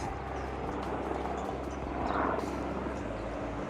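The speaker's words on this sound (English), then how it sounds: "It's a helicopter, sorry for the noise." A steady, heavy rotor drone fills the air continuously over a city under clear blue sky, swelling slightly louder midway as a helicopter passes overhead, with no voices.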